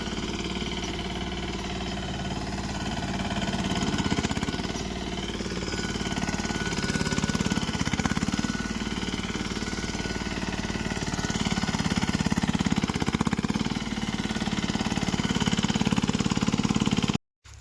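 An Apollo Essco 1502 mini tractor engine runs steadily at a close, even idle-like drone for the whole stretch, with slight rises and dips in pitch, cutting off abruptly at the end.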